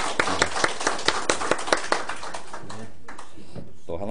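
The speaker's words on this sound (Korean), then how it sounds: "감사의 박수를" A church congregation claps together in quick, even beats for parents ahead of Parents' Day, the clapping fading after a few seconds into a quieter room.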